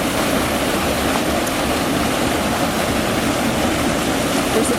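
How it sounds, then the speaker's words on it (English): A garden waterfall pours constantly, a loud, dense, unbroken rush of falling water heard up close with no talking. "So here's the waterfall. It's going to get a little bit loud,"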